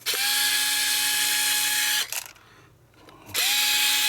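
A power screwdriver backs out the screws holding the top plate of a Seagate 500GB hard drive, two loud, close whirring bursts split by a brief pause with faint handling noise.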